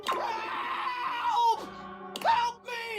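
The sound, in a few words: man with a sink for a head screaming, from the video game Date Everything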